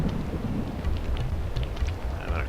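Rain falls steadily with a low rumble of thunder underneath in the Aidyn Chronicles: The First Mage video game, a dense continuous wash of patter without speech.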